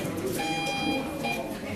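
Beeping tone keys out the Morse code letter R as a short, long, short pattern, a clear steady pitch heard over a continuous background hum.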